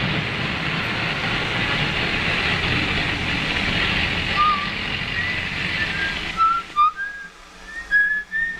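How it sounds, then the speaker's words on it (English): A steady rumbling background fades into quiet, and a man's whistled melody emerges clearly, bright rising and falling notes sliding through a short tune, in a 1943 wartime film. "What's that you're whistling?"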